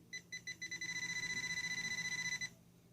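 Beeping from a Deteknix Xpointer Wader pinpointer metal detector: a series of short electronic tones that speed up into a fast, steady pulsing run, clear and close, then stop abruptly.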